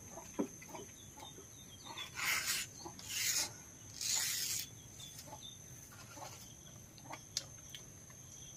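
Dry rasping strips sound in three bursts close by as leaves are stripped for broom-making, with scattered small rustles and clicks between them.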